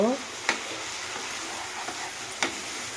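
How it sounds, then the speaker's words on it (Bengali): Masala for a yardlong bean and prawn curry sizzles in a pan with a constant hiss, punctuated by two sharp spatula scrapes against the metal, close and without talking. "এটা আমি খানিকক্ষণ কষিয়ে নিচ্ছি"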